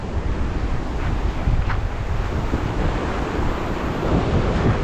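Wind buffets the microphone over the steady wash of sea waves, a continuous rough roar with no talking.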